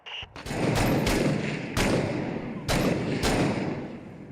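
Video game gunfire rings out in a series of loud, sharp shots, about six distinct reports at irregular intervals, each trailed by a heavy echoing boom that fills the gaps.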